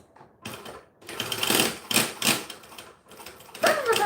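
A sewing machine stitches fabric pockets in short runs, its rapid mechanical whir rising and stopping several times close by in the quiet between bursts.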